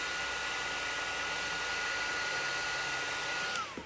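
A heat tool blows steadily while drying ink for scrapbooking holiday makes, a continuous loud whooshing hiss that runs nearly the whole time and cuts off sharply near the end.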